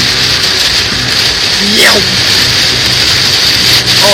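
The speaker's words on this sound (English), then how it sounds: "This rain is fucked." Heavy thunderstorm rain pours in a dense, steady hiss close by, with voices calling out over the downpour.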